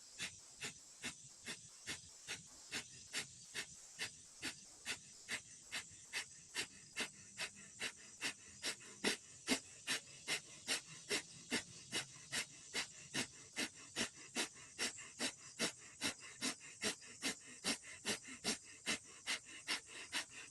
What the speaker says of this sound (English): we'll do short, sharp exhales out of the nose, pumping the breath